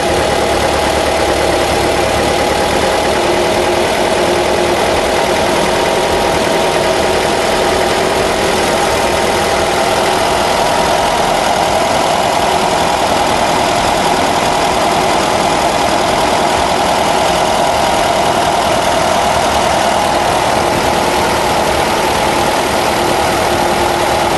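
Engine fitted with EMPI D series dual carburetors idling at about 1000 RPM during tuning, a loud, steady, even drone that holds without change for the whole stretch, nobody talking.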